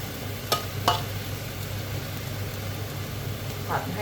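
Pork and pai leaves stir-fried in a pan, a low steady sizzle with a few spatula scrapes and clinks, fairly quiet against a faint background hum.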